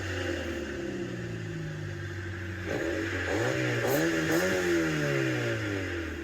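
Mazda Miata with a 1.8-litre engine and what seems a stock exhaust, idling steadily then revving up in a few rising and falling sweeps, loud and close throughout.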